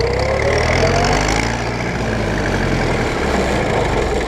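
An old tractor engine runs loudly and steadily close by, a continuous rough rumble that holds at high revs throughout.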